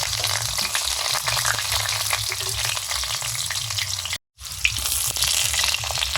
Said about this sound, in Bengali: মাংসের আলুগুলো ভেজে দিচ্ছি